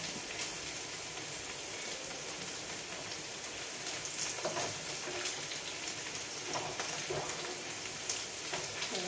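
Ivy gourd (kovakka) frying in oil in a pan, a steady, dense sizzling crackle that continues evenly throughout with no talking.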